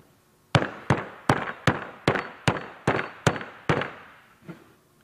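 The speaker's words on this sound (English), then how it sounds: "once I get it in there, I start banging it in" Soft clay being banged into a tile mold at a Pewabic pottery demonstration: about nine loud, sharp thuds land in an uneven rhythm, each ringing out briefly before the next, with the last blow weaker.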